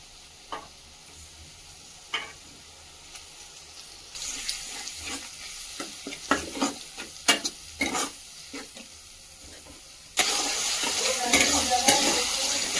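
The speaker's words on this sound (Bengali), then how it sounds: "এখন দিয়ে দেব আদা বাটা।" Ginger paste goes into hot oil with fried onions for a village-style mutton curry: quiet stirring clicks at first, then a louder sizzle with sharp scrapes, ending in a strong, continuous hiss.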